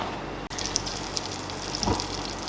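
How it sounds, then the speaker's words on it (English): Butter and walnut oil sizzle steadily in a pan at the start of a Reblochon cheese risotto, a close, even crackling hiss with no talking. "Okay, here it is, nice and sizzling."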